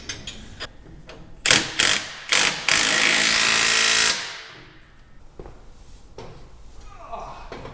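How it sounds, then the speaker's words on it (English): Bolts on a small tractor being cranked tight with a wrench: three short sharp bursts of mechanical clatter, then a longer harsh grinding run of about a second and a half, with a voice talking around it. "I'll just tighten the bottom two with a wrench really tight"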